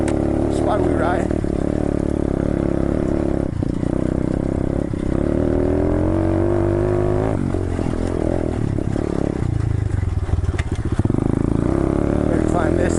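A 125cc Chinese pit bike rides a dirt trail in third gear, its small engine droning steadily up close with shifts in pitch, clatter and scrapes, while a rider talks over it.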